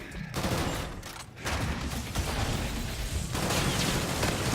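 Dense, rapid gunfire crackles through a Call of Duty firefight, a continuous loud barrage of overlapping shots with a brief dip in intensity, and no clear talking over it.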